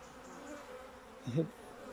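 Honeybees buzz in a steady, faint drone during an autumn beehive inspection, with a brief louder swell near the middle.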